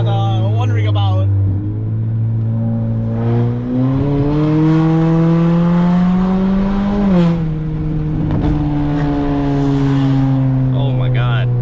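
A 10th gen Honda Accord 1.5T with a K-Tuned 3-inch exhaust gives a deep, tuba-like droning boom that swells and shifts in pitch as it accelerates, heard from inside the car with people talking under it.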